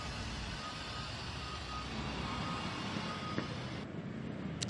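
Road traffic rolling along the Lemery diversion road after floodwaters eased, a steady broadband roar of trucks and cars with a brief beep-like tone partway through and a distinct change in tone near the end.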